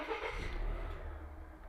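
A Volvo XC90 T5/T6 engine cranks and catches, a brief loud burst settling into a steady low idle rumble, close by inside the car.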